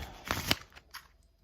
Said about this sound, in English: You can even shuffle them one more time just to make sure that they are.